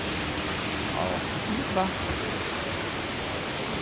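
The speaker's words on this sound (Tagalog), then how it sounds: "Dito pa lang parang may gubat na may falls." An indoor artificial waterfall in a shopping mall gives a steady, broad rushing hiss, while a voice briefly speaks over it near the middle.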